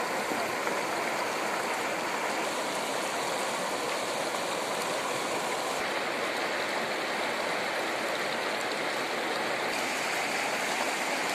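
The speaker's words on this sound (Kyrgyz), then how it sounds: "мына шаркырап сонун аябай тунук суу" A clear mountain stream at Pach-Ata rushes loudly and steadily, a dense, continuous wash of flowing water close by with no voices.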